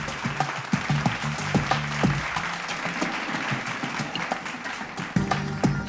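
Enthusiastic audience applause at a televised award ceremony in Bihar greets an honoree, steady dense clapping throughout with a few louder claps and a faint voice beneath.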